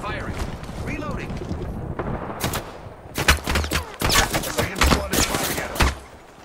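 Automatic gunfire in the Apex Legends video game starts out sparse, then crackles in loud clustered bursts with sharp shots and low thuds, while voices talk faintly underneath.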